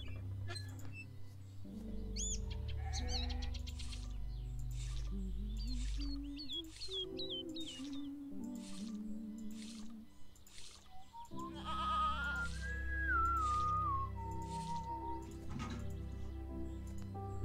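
Goats bleat in the video game The Stillness of the Wind: repeated wavering calls over a steady musical drone and ambient farm sounds, fairly close and moderately loud, with no talking.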